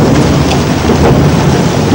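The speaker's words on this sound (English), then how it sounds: "there's thunder and lightning" A loud thunderstorm: heavy, steady rain pours down while low thunder rumbles roll continuously underneath, with no talking.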